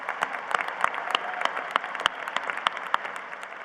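An audience claps at a University of Idaho commencement ceremony, a steady patter of many hands at moderate distance with no voices over it.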